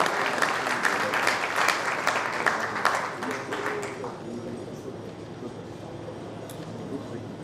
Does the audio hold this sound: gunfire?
no